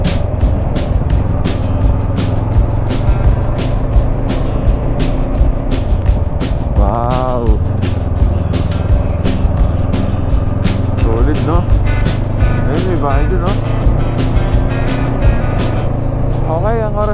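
Steady car engine drone and road noise on a long drive toward Banaue, Ifugao, with rhythmic ticks from the road surface and a few faint squeals riding over the constant hum.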